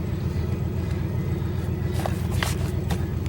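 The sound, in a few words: modified Delta 88 car engine cruising in video game GTA 5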